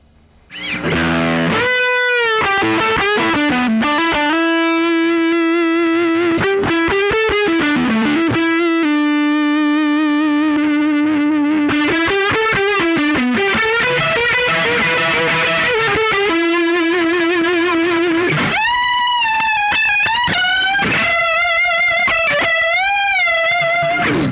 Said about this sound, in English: that recipe of fuzz and rotary speaker